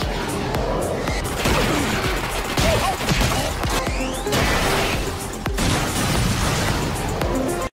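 Anime battle in which armored ninjas face special forces and tanks: a string of loud, close explosions and crashing bursts with rapid, fusillade-like pops, continuing almost without a break.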